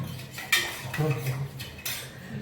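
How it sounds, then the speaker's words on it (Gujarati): A spoon stirs a sherbet drink in a glass, giving a quick series of close, bright clinks and scrapes against the glass over a few seconds, with no talking. "શરબત બનાવવાનું કામકાજ ચાલુ છે"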